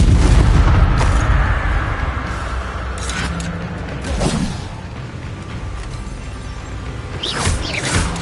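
A Confringo blasting spell in Hogwarts Legacy, a loud booming explosion at the start that rumbles and fades, followed by softer magical whooshes and mechanical clatter, no talk.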